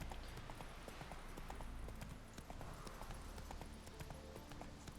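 Horse hooves clip-clopping in The Witcher 3 video game, a quick, steady rhythm of hoofbeats at low, even volume under faint background sound with no talk.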